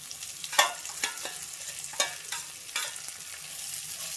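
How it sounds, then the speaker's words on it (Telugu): Cauliflower pieces with turmeric frying in a pan, with a steady hiss broken by a series of sharp spatula scrapes and stirring strokes, close and fairly loud, with no voices. "పసుపు వేసి కూడా ఇప్పుడు ఈ క్యాలీఫ్లవర్ కూడా ఇట్లా వేసేసుకోండి"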